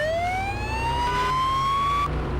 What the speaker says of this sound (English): I'm gonna try and figure out my siren again